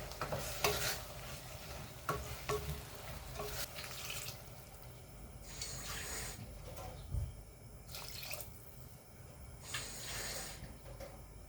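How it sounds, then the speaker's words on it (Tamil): Water is poured into one-pot sambar dal seasoned with turmeric and asafoetida and left to cook, with repeated bursts of pouring and splashing between quieter stretches of stirring and bubbling. "இனி கொஞ்சம் தண்ணி ஊற்றி வேக வச்சிடலாம்"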